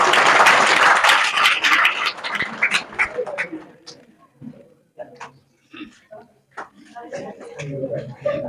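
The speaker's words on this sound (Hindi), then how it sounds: "तालियां बजाओ भाई।" Students at a Class 10 and 12 farewell ceremony clapping, a burst of dense applause at the start that thins into scattered claps and shuffling, with voices talking through the later part.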